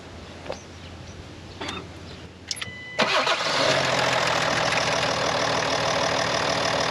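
A next-generation Ford Ranger with bonnet and door open comes to life: a few faint clicks and brief sounds lead into a cranking start, then the engine settles into a steady, close idle that holds to the end.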